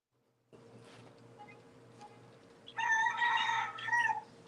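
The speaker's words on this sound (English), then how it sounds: "Even you see the rooster agree with me" A rooster crows once in a long, loud, drawn-out call rising from a quiet background, fairly close and heard alone without talk.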